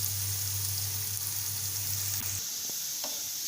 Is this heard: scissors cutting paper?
no